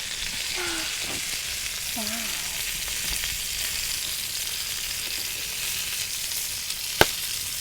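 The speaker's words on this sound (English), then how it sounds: "Sizzling." Steady, crackling sizzle of chicken kebabs on hazel wood skewers cooking over a fire, continuous and close, with a brief sharp clink near the end.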